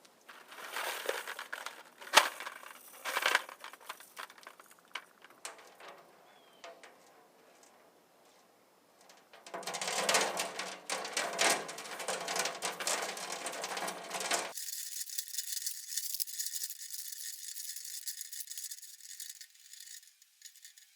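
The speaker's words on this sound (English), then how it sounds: "You could use sheetrock screws or bolts and nuts, anything rough, so when you shake the tank, it will remove the rust that's stuck on the wall of the tank." Loose screws rattle and scrape inside a dump truck fuel tank as it is shaken to scour off rust, a harsh metallic clattering in irregular bursts, with pauses and a dense, continuous stretch of shaking toward the end.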